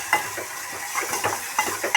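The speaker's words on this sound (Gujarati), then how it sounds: "તો જો આપણે દાળ વઘારવાનું શરૂ કરી દીધું છે ડુંગળીનો વઘાર કરી નાખ્યો છે" Onion crackling in hot oil as dal is tempered on a village stove, a continuous close sizzle broken by repeated stirring scrapes and light metallic taps.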